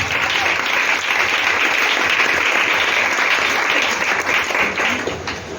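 A church congregation applauds in steady, dense clapping that fills the space throughout, strong and continuous with no break, easing slightly toward the end.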